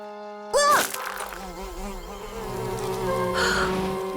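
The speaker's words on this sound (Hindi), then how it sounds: "लगता है ये चट्टान नहीं, एक बड़ा मधुमक्खी का छत्ता है" Bees swarm out of a large cartoon beehive in a rocky jungle, a loud sudden buzzing that drones on steadily with shifting pitch, mixed with cartoon effects and music.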